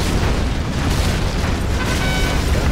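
Rocket explosions from a Comanche helicopter strike in Command & Conquer Generals Zero Hour, a loud, steady rumble of overlapping booms and blasts that runs without a break.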